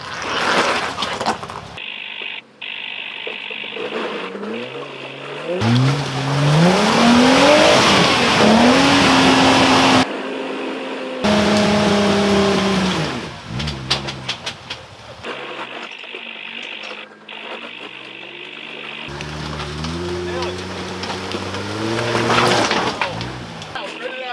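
A car accelerates hard on a dirt course at a Nitto tire event, its engine revving up in repeated surges with rising pitch, loud and close, broken by brief pauses, with some tire noise and background voices.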